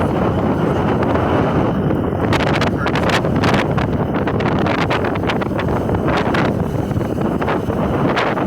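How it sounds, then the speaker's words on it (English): Strong wind buffets the microphone continuously, a loud roaring rush with gusty bursts throughout and no voices. "You haven't noticed it's a little windy today?"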